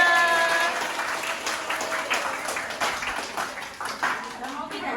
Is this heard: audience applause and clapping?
yes